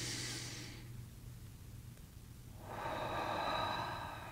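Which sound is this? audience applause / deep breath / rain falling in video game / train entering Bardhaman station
deep breath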